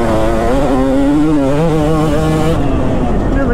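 A Kawasaki KX250 two-stroke motocross bike engine revs loud and close for a few seconds, its pitch rising and wavering with throttle changes during riding, then easing slightly near the end.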